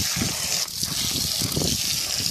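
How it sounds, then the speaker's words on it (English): Water pours steadily onto dry soil in pots of chili plants, a continuous close gushing splash with a brief dip partway through. "keep watering them and watering them"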